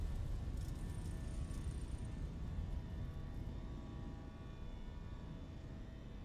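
Fenix A320 jet engines at takeoff thrust in a flight simulator game, a steady broad roar with a faint high whine, continuous and even throughout, no talk.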